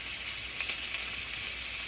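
Ginger, garlic and green chilies sizzle steadily in a hot pan over medium heat for a cabbage and potato sabzi, a close, continuous frying hiss with no talking.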